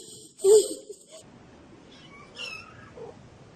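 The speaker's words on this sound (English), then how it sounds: "You're an evil cat." A cat gives one loud, close meow, followed by a few fainter, shorter mews.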